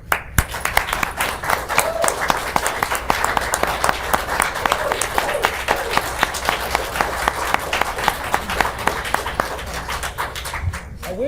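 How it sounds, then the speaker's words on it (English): Audience applause fills a board of education meeting room, a steady dense crowd clapping that holds throughout before tapering at the very end. "I wish all the board members would have clapped"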